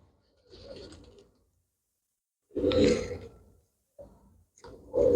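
Pigeon at a breeder's sale, making a few soft throaty coos and sigh-like calls in separate bursts with silent gaps between, close and moderately loud.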